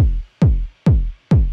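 Kick drum with its high end through a tube drainer distortion plugin: four loud, booming thumps at a steady, even pace, each with a short gritty attack and quick decay into silence, alone and without talk.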